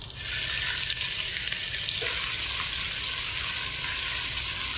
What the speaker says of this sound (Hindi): अब मैं इसमें डालती हूँ ये अदरक लहसुन का पेस्ट।